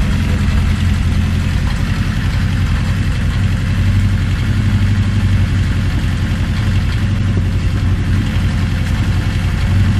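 A 1980 Honda CB650 motorcycle engine idles loud and close, holding a steady, even throb for the whole stretch with no voices over it.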